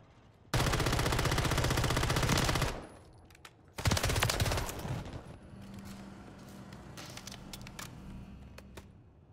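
A Call of Duty: Modern Warfare III turret hammers out a loud, rapid two-second burst of automatic fire, followed after a pause by another harsh volley and scattered fainter shots trailing off.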